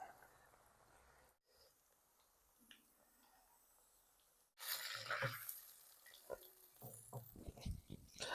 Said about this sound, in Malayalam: അപ്പോൾ ആ എണ്ണയിലേക്ക് നമുക്ക് നമ്മുടെ കണവ ഇട്ട് കൊടുക്കാം